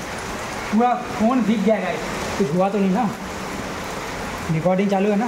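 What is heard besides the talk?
heavy rain falling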